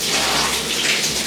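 Steady broad hiss of warm shower water running in a bathroom, a continuous close spray with no talk over it.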